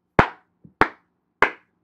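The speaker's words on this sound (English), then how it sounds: "Don't be clapping." Three separate, sharp hand claps ring out close by and loud, spaced roughly half a second apart. Each one has a crisp attack and a short decay, and a faint soft knock falls between the first two.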